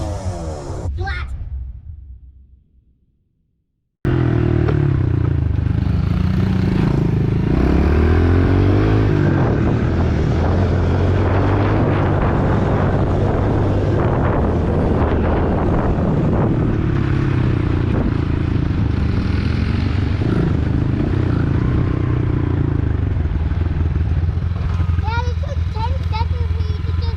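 A Honda CRF50 pit bike fitted with a CRF88 big bore kit engine, sustained loud close engine drone with shifting pitch after a short burst and a brief silence, running continuously at high revs with some wind noise.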